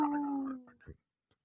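A person imitates a wolf howl with a single short, wavering vocal howl that slides slightly downward, followed by a brief breathy sound, close and clear.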